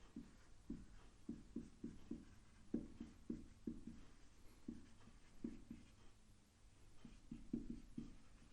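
Pen writing an equation, faint scratching strokes in short bursts and clusters, quiet and close with brief pauses between.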